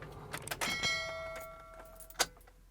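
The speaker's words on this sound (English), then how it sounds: "you need to turn the ignition off" A car key turned in the ignition to switch it off, with a few light metallic jingles of the key ring, a faint electronic tone, and a final brighter clink, close and quiet.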